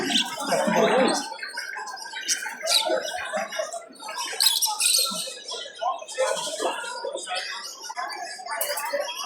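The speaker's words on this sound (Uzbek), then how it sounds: "Bu kaptarlar nech pul ekan aka?" Busy chorus of pigeons chirping, squawking and cooing close by at a pet market in Tashkent, overlapping in quick irregular bursts, with a voice faintly in the background.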